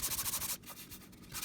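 Sandpaper rubbing back and forth over an epoxy-coated, Micarta-wrapped axe handle, quick rhythmic scratchy strokes that pause briefly and then resume more softly.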